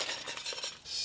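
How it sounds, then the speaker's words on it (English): A whisk stirs and breaks up chili in a pot for a seafood gumbo, giving close, continuous scraping and clinking against the metal with small rhythmic strokes. "I'm going to use a whisk to chop up that chili a little bit."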